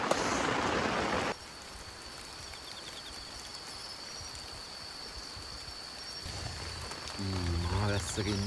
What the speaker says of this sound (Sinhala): තද වැස්සක් තමයි යන්නේ